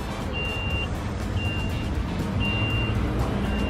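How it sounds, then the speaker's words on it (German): A small golf cart drives along with a steady motor rumble, and a high electronic beep repeats at regular intervals about once a second. "So, wir sitzen jetzt in einem kleinen Golfcar"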